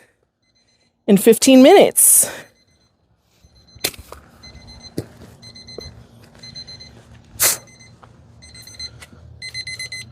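A timer alarm sounds in a front yard garden in a short loud burst, followed by quieter intermittent beeping and rustling, with someone speaking briefly.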